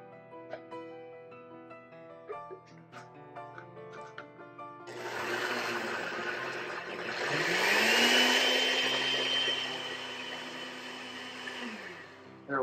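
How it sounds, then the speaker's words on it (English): A kitchen blender with half a cup of water whirs loudly for several seconds as it is cleaned, its motor whine rising in pitch then holding steady before cutting off, following a quieter stretch of soft tones. "let's go ahead and clean up the blender right now"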